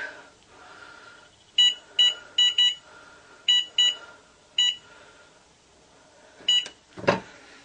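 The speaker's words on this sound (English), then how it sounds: "Gonna set the timer." A kitchen oven timer gives a series of short, sharp electronic beeps in small irregular groups, loud and close, with faint room noise between them and a brief clatter near the end.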